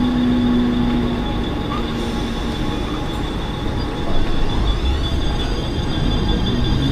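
A Mumbai local train coming in from Panvel rolls loudly nearby, with a steady rumble of wagons, a sustained high squeal from the wheels and rattling that swells slightly partway through.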